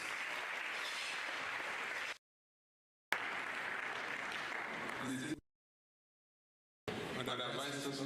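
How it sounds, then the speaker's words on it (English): Applause from a large crowd at a university inaugural lecture, broad and steady, broken by two short silent gaps before resuming. "Please let's give ourselves a round of applause."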